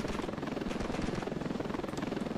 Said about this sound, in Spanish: Vamos a probar el helicóptero.